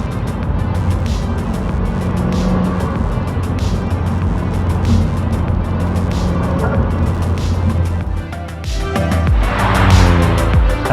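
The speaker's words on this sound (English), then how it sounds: "the turbo noises on my car have always been pretty vocal over the time I've had my Go Faster Bits diverter valve" A car fitted with a GFB DV+ diverter valve drives under load with a steady engine and road roar, then a rising whoosh of turbo and valve noise near the end, heard from inside the cabin.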